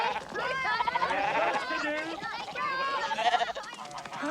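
Sheep bleat repeatedly in a wavering chorus at a farm shearing, with children and adults talking over and between the calls.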